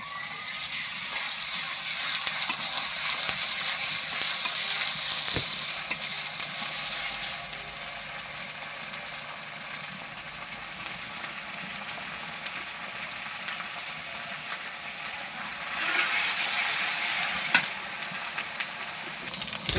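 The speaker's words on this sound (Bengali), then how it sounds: "আদা রসুন বাটাটা তেলে ভেজে নিলে ভালো হয়।" Ginger garlic paste fries in oil in a pot over a clay stove, giving a steady, close sizzle and hiss that runs for the whole stretch, with a few soft stirring scrapes and a brief louder crackle near the end.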